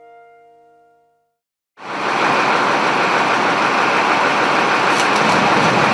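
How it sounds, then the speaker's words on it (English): Rain falls on the Vltava River in Prague, a loud, steady broadband hiss of water that starts abruptly after a short tonal snippet and holds evenly to the end. "It's raining, the weather's against us, yet we press on."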